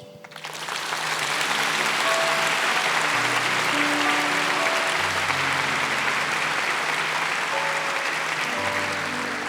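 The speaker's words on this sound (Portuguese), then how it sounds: "Pode aplaudir." An audience at a Catholic talk bursts into applause that swells within a second and holds as a dense, even roar of many hands, while a faint sustained musical tone runs beneath.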